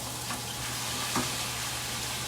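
Garlic sizzling with butter in a hot pan, stirred with a wooden spatula: a steady, even hiss with a faint scrape of the spatula partway through, no talking.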